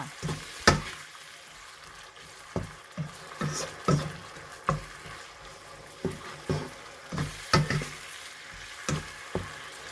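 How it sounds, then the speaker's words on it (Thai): Seasoning powder, sugar and light soy sauce being stir-fried in a pan for a Thai oyster-sauce kale dish: a soft, steady sizzle punctuated by irregular spatula scrapes and taps against the pan. "ก็ผัดคลุกเคล้าให้เข้ากันค่ะ"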